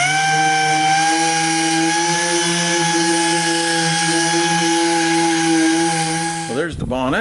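A machine sands the bonnet of a Toyota Landcruiser 200 Series with 2000 grit paper, giving a steady, close, high-pitched tonal whine that holds evenly before ending in a short scraping shift.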